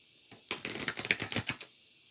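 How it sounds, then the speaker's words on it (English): A deck of tarot cards riffled in one quick burst of rapid fluttering clicks, close and crisp, lasting about a second. "You shuffle them one more time."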